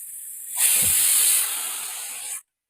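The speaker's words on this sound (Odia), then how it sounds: "ପ୍ରେସର କୁକରଟା ସିଇଁ ସିଇଁ ହେଉଛି" A pressure cooker hissing in a kitchen, a loud continuous jet of steam that swells quickly, holds steady for nearly two seconds, then cuts off abruptly.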